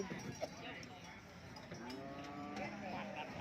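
Cattle and buffalo low at a livestock market, drawn-out moos rising and falling amid a busy crowd murmur, with people talking nearby and a faint clank of a cowbell.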